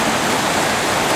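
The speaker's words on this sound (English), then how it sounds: "Here's where that waterfall's coming from, see?" Waterfall pouring into a creek, a loud, close, unbroken rushing roar of water with no voices over it.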